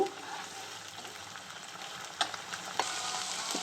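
Garlic paste frying in a pan for Andhra-style chicken curry, a steady soft sizzle throughout with a couple of brief louder scrapes or stirs near the end, fairly quiet and with no talking.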